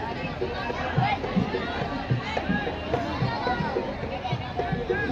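A large crowd chatters densely at a busy dargah shrine on a holiday Sunday, a constant babble of many voices with footsteps and nearby talk mixed in.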